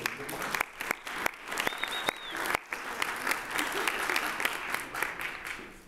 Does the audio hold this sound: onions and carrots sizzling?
no